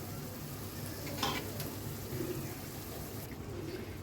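Boiled jute greens going into a pan of fried spices: a soft, continuous sizzle with light stirring and scraping, faint and close, with no talk over it.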